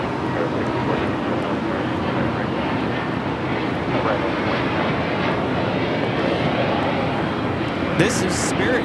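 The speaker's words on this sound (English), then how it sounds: "This is Spirit Airlines 326 taking off to Houston Intercontinental on the A320neo." Spirit Airlines A320neo taking off from Los Angeles bound for Houston, a broad, steady engine roar sustained across the whole stretch, fairly loud, with a brief sharp click near the end.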